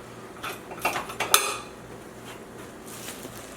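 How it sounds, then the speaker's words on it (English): A spoon clatters and scrapes against a pot while garlic is mixed for game day chili, a few sharp knocks clustered in the first second and a half over steady low background hum, with no talking. "I like to take a spoon here and just mix it up."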